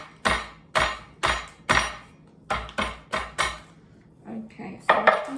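Filled biscuits are smashed in a bag for an ice cream cake, giving about ten sharp, loud thumping whacks in an irregular rhythm, each with a crunchy decay, followed by softer crinkly rustling.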